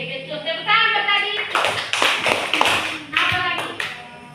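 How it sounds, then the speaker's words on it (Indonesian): Children in a classroom clap their hands in several quick, bright bursts, loud and close, mixed with a voice talking over the applause. "Tepuk tangan tadi."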